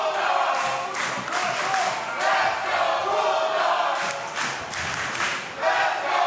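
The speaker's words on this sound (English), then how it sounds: "This crowd fully behind Bulldog Sr., and so am I" A wrestling crowd at a dog collar match cheers and shouts in repeated surging waves, loud and fairly close, with some clapping mixed into the roar.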